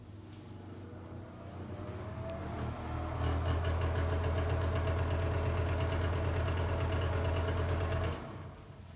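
A bathroom exhaust fan motor hums loudly and steadily, rising in strength after a few seconds as it struggles up to speed, then cutting off near the end.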